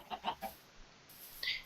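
Chicken clucking in Minecraft, three quick close clucks followed by a short pause and one more brief cluck, fairly quiet.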